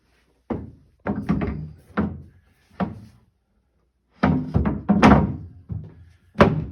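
A wooden roll top desk top being set in place during assembly, giving a series of heavy hollow thunks and knocks, some in quick clusters, with a pause midway and no talking.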